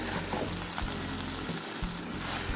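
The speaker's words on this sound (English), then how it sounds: "I'm going to let that caramelize on the bottom for a minute or so before I even bother it" Pineapple and soy sauce sizzle in a pan, a steady dense frying hiss that stays close and even throughout with no talking.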